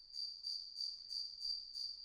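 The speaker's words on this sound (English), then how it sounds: "The cricket sounds in the background." Crickets chirp in a steady, even pulse of about six high trills, soft and distant, with no voices over them.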